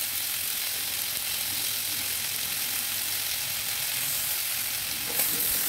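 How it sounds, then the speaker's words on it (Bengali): Tomatoes fry in a pan while being stirred, a continuous close sizzling hiss with faint scraping of the spoon and a brief clatter near the end, no talking. "আমি টমেটো দিয়ে দিলাম, দিয়ে এবার আর একটু নেড়ে নেব।"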